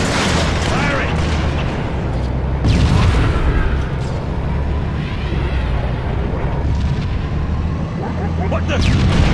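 Tank cannon fire in a video game: heavy booming blasts, one standing out around the third second, over a loud continuous rumble of battle noise, with voices talking throughout.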